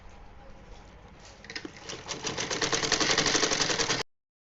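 A sewing machine stitches the hem of a small summer dress, a rapid needle chatter that starts after a quiet second, builds to a steady close run for about two and a half seconds, then cuts off abruptly.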